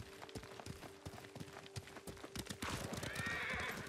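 Horse hooves clip-clopping in the video game Ghost of Tsushima, a steady close rhythm of hoofbeats, with a horse neighing toward the end.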